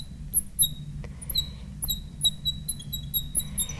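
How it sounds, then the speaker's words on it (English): A squeaky blue marker drags across a board in short, high-pitched chirps and squeals, close and fairly loud, several quick strokes in an otherwise quiet room. "loop these two off here with my squeaky blue marker"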